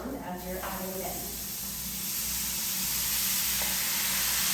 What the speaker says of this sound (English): you should hear it make a sizzling sound as you're adding it in.